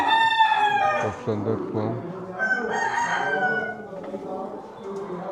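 Chickens and a rooster at a small-animal poultry show in Leingarten, with crowing and clucking from colourful hens mixed into a busy hall; someone speaks throughout.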